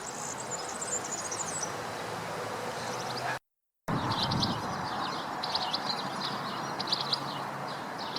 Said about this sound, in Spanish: los jilgueros residentes en el parque comienzan a emitir sus bellos cantos desde perchas al descubierto